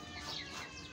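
An Aseel rooster gives a brief, soft, close cluck, a single short call lasting about a second in a quiet setting.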